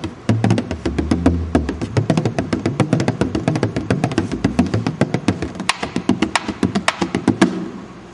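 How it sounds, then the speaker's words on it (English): A goatskin bodhrán frame drum struck with a stick, played in a fast steady rhythm of close, loud dull thumps with crisp tipping clicks across the whole stretch. "And I use the stick in this instance, and it sounds something like this."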